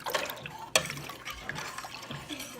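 A spoon stirs a big spoonful of Stonyfield yogurt into goat milk for homemade Instant Pot yogurt, giving soft close liquid swishes and light scraping with one sharp clink early on.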